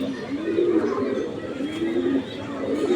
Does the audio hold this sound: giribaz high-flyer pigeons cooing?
yes